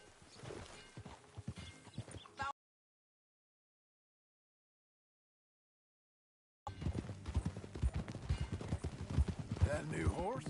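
Horse hooves clip-clop in a film scene as riders mount up, a run of hoof strikes with a neigh and rustling, then silence, then a busier stretch of hooves and movement.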